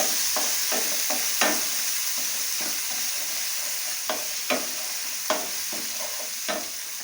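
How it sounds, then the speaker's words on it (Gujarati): Ginger-chili paste sautés in a pan over low heat with a steady soft sizzle, punctuated by irregular spatula scrapes and taps, close and without talk. "આપણે આ પેસ્ટ નાખશું આદુ મરચાંની. ગેસ ધીમો કરી દઈશું અને 2 મિનિટ સાતળી દઈશું"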